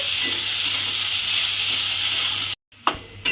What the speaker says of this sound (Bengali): দিয়ে এবারে আলুগুলোকে একটু হালকা করে ভাজবো